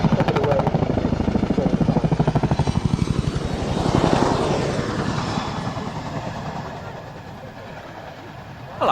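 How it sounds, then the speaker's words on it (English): Chinook twin-rotor helicopter in flight, a rapid heavy rotor thudding with turbine roar that swells as it passes overhead and then fades into a receding drone, with some talking heard underneath. "I hope you enjoyed the sight and sound of that wonderful Chinook"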